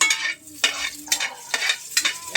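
Garlic and onion fry for beefsteak while a utensil scrapes and stirs the pan in quick repeated strokes, with a close, crisp sizzle between the strokes.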